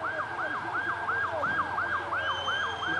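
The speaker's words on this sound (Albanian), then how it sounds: "pavarësisht sirenave të ambulancës" An ambulance siren wails during a protest where young people block the vehicle, a fast repeating rising and falling yelp, loud and steady, with a faint high tone joining near the end.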